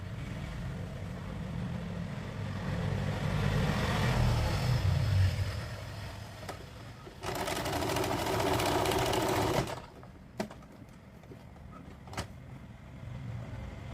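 Sewing machine stitching a folded fabric hem, its steady close whir running in bursts with a short pause midway, then stopping, followed by a few faint clicks and handling sounds.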